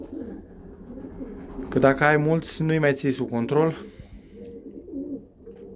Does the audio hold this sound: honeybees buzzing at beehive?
no